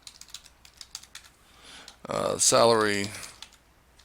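Fingers tap a computer keyboard while filling in a table, with quick light key clicks in an irregular patter, followed by a nearby voice speaking.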